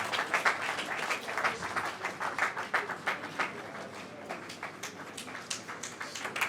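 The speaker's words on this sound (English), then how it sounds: "Please, a round of applause for him as he comes up." Audience at a regional aviation conference applauds a sponsor walking up, a moderately distant, continuous round of many hands clapping with a slightly pulsing rhythm throughout.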